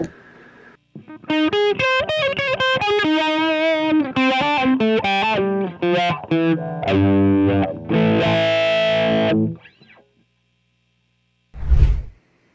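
An electric guitar played through a Morley Pro Series II wah pedal, loud distorted notes and chords with sweeping vowel-like wah tones and a vintage-style character, ending in silence before one short final strum.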